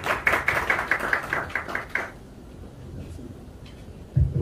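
A small crowd at a press conference in Brussels gives the ambassador brief, light applause of about two seconds. The claps are fairly close, then fade into a quiet room with a thump at the end.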